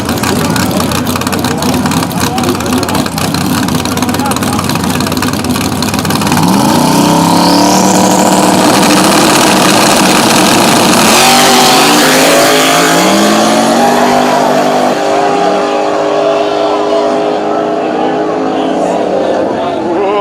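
Drag race cars at KD Dragway, one wheelieing in the right lane, roaring loudly and continuously as engines rise in pitch and sweep past, with crowd and commentary noise under the din.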